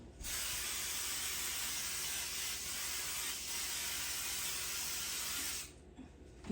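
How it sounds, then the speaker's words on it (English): A steady, loud hiss of cooking spray on a pan runs continuously for several seconds close by, then cuts off abruptly. "The first thing I'm going to do is spray our pan really well because this is sticky."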